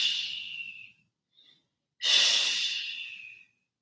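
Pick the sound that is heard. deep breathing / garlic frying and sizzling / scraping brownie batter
deep breathing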